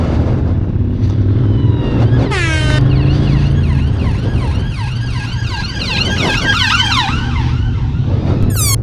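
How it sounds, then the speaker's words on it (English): An ambulance siren passes along a road, its loud wailing sweeps rising and falling across most of the clip over steady traffic and wind rumble from a motorcyclist's position. "Just had to rally onto the pavement to get out of the way of that ambulance."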